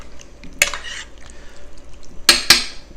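A spoon stirs stew in a crock pot that has cooked for about nine hours, with soft wet squelching and a few sharp clinks of the utensil against the ceramic, close and quiet between the knocks.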